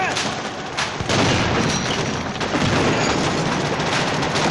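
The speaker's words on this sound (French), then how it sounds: "Ah, elle m'a balancé des grenades." Heavy, booming grenade blasts in a first-person video game, loud and close over a dense rumbling bed of battle noise, with one sharp burst near the start and a sustained roar after it.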